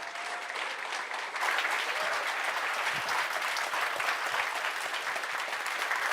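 An audience applauds Dr. Cerf at a Linux and open source conference, steady dense clapping that swells after the first second and continues evenly throughout, loud and sustained with no talking over it.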